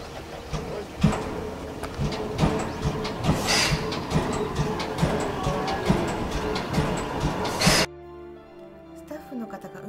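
A Chichibu Railway steam locomotive at the Mitsumineguchi turntable makes loud rhythmic mechanical clanking and hissing close by, then stops abruptly, leaving a quieter scene with faint talk.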